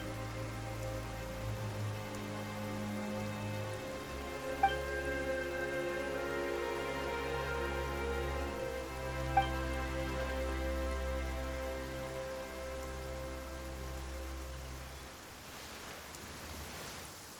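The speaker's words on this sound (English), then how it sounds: "Why is it raining all of a sudden?" Steady rain falls in the video game Genshin Impact, a continuous soft wash of drops over a sustained musical drone that carries on with no talking before fading near the end.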